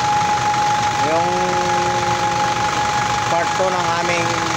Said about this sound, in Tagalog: umandar na yung 4HG1 na makina.